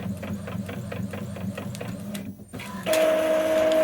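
Inkjet printer running a DTF transfer print, a steady mechanical whir with rhythmic carriage pulses and faint clicks, then a sudden louder sustained whine and hiss after a brief quiet gap, close and without speech.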